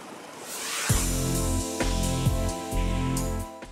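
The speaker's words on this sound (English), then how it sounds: "Even at minimum, this is the noise of an electric engine room." The electric engine room of a Marian M800 full-electric yacht runs at minimum power, a steady low hum layered with tonal whine and periodic pulsing thumps, close and continuous with no voices.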